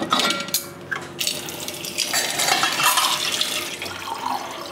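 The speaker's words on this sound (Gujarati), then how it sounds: "આ રીતે ઉપર ઠંડુ પાણી રેડી દેવાનું છે." Cold water splashes and streams from a vessel onto cooked mango pieces in a pan, a close, continuous pour with a few clinks of the container at the start.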